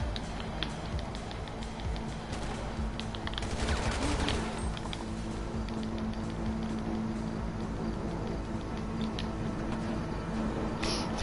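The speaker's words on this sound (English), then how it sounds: "GTA Logic, they can shoot through solid objects" Enemy gunfire in GTA Online, a dense crackle of rapid shots and bursts running continuously at moderate distance over a constant background hum.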